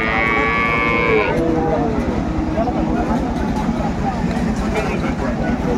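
Cows and young calves at Ambari cattle market in Dinajpur, one nearby moo rising clearly at the start over a constant loud crowd din of voices and livestock noise.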